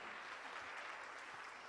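An audience applauds in a steady, faint wash of clapping from many hands, even and continuous across a brief stretch.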